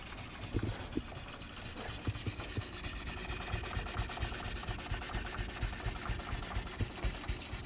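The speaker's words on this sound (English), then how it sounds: "we're going to take some steel wool and work our way back and forth" Very fine 4/0 steel wool scrubs back and forth along the rosewood fretboard of an Epiphone guitar, giving a close, continuous rasping rub with soft rhythmic strokes and occasional light knocks.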